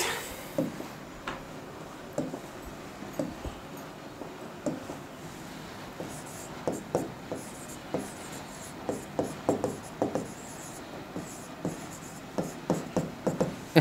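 A pen scratches on paper while figures are written out by hand during a forex exam problem, a series of short quiet strokes in irregular bursts across a hushed room.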